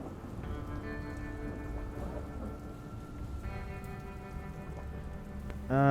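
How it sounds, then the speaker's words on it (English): Steady rain begins to fall in the video game Dustland Delivery, a dense hiss with soft music tones beneath it and a louder swell at the very end. "Oh goodness, it's starting to rain."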